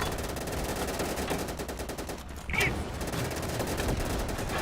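Heavy artillery and machine-gun fire in the WWII shooter Easy Red 2, France 1940 setting: a dense, continuous battlefield barrage of rapid gunshots with a louder blast about halfway through, no talk.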